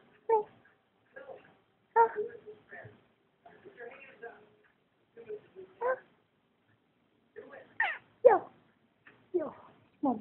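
A talking cat lets out a string of short, voice-like meows and chirps in separate bursts, some rising in pitch, heard close and fairly quiet, with brief gaps between calls.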